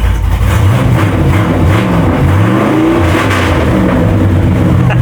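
A long-dormant unfinished family project car engine revs loudly and continuously close by, its pitch climbing and falling through repeated throttle blips with no talking over it.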